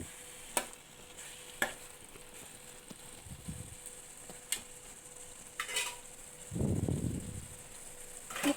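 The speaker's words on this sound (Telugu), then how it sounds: "మనం ముందుగా మ్యారినేట్ చేసి పెట్టుకున్న చేపలు వేసుకొని ముక్క విరిగిపోకుండా కలుపుకోవాలి" Marinated fish pieces stirred gently into a frying fish curry in a pan, with a few sharp utensil taps and a short soft sizzling scrape near the end, quiet and close.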